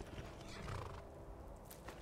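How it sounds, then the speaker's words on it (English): A horse in the video game Skyrim neighs and whinnies, with hooves clip-clopping under a dense, busy game soundscape for about two seconds. "Oh, thank you for the horse nag."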